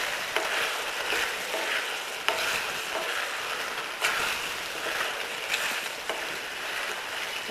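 Slit boiled eggs cook in a tomato gravy, which bubbles and sizzles in a steady, close hiss, with a few soft stirring scrapes every second or two and no voices.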